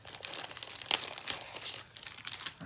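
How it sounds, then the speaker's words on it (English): A small plastic bag holding dimensional adhesive foam dots crinkles and rustles up close in a continuous, busy stream of crackles, with a sharper crunch partway through. "I keep mine in a little plastic bag."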